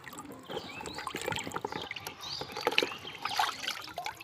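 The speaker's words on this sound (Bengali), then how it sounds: "বেগুনের মধ্যে ময়লা আছে, ধুয়ে নেই ঘরে একবারে।" Home-grown eggplants are washed by hand in water at a Bangladeshi village home, with soft sloshing, trickling and splashing throughout and faint bird chirps in the background.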